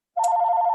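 A telephone starts ringing abruptly, a loud, steady electronic warble that sustains alone for under a second.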